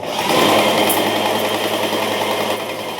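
A Graco GX19 airless paint sprayer machine runs with a continuous, loud mechanical whine and hum, steady and close, with no voices.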